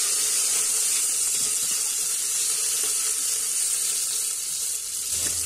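Onion and curry leaves fry in hot oil for a yogurt-style stuffed eggplant dish, a steady bright hiss and crackle held at an even level throughout, close by and without voices.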